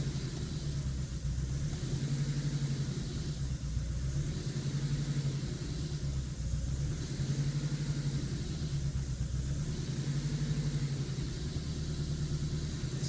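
A Subaru EA82T turbo engine on Megasquirt MS3x management idles roughly nearby: a steady low rumble with a loping, periodic surge every couple of seconds, continuous and alone.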